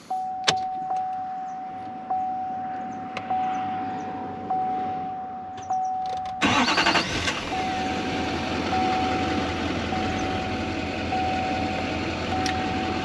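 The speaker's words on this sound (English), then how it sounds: "and then I'm going to start the vehicle" A 2013 GMC Sierra 2500HD Duramax diesel cranks and fires up after a steady chime, then settles into a loud, close idle.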